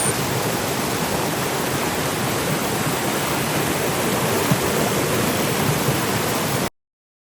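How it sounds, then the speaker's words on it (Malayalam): A small waterfall in the hills near Munnar, a constant loud rush of falling water with a steady unbroken roar that cuts off abruptly at the end. "ഇവിടെ ചെറിയ ചെറിയ വെള്ളച്ചാട്ടമാണെങ്കിൽ ഭയങ്കര രസമാണ്."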